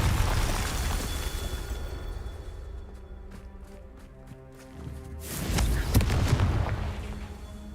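A Confringo explosive spell blasts in Hogwarts Legacy, with a loud rumbling boom that fades, then a second burst of crackling, roaring blast noise a few seconds later.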